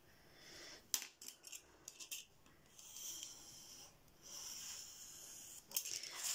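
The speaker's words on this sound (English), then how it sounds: "Again, let's just cut off that excess." Scissors snip away excess canvas close by, with several quiet sharp cuts and then longer rasping slices through the fabric, faint and intimate in a quiet room.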